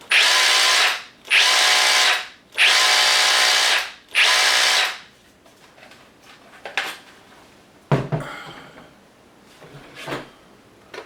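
A Milwaukee M18 FUEL SDS Plus rotary hammer drill on hammer setting runs in four loud, sustained bursts with short pauses between, followed by quieter clatter and handling noises.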